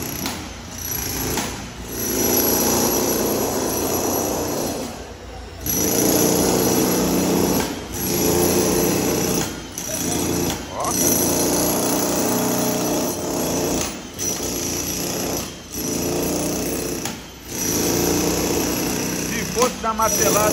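A Hilti TE 2000-AVR demolition hammer runs in loud, close bursts of rapid hammering, each lasting a few seconds and separated by short pauses.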